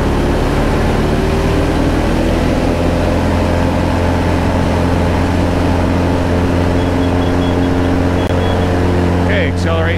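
An Aviat A-1 Husky's engine roars loud and steady close by as the airplane accelerates down the runway on its takeoff roll in a light left crosswind, a pilot talking briefly over it near the end.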